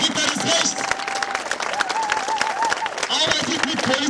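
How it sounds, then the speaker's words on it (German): A crowd at an outdoor Gaza peace demonstration in Braunschweig claps in a dense, uneven burst, with individual sharp claps standing out and a voice carrying over the applause. "Ein Applaus für die Ritter des Rechts."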